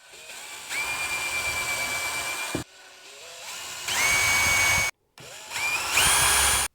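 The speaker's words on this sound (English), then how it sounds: "we do need to drill the holes" A power drill bores tremolo mounting holes in a Fender Stratocaster body, whining in several separate bursts that rise in pitch as the motor spins up, with short pauses and silence between them.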